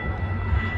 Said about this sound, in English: The next outbound train approaching your station will not stop.